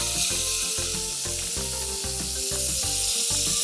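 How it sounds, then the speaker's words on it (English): Butter heats in a pan with a small sprig of thyme, giving a steady, loud sizzling hiss throughout, with a repeating low rhythmic pulse beneath and no talking. "So I'm gonna heat some butter."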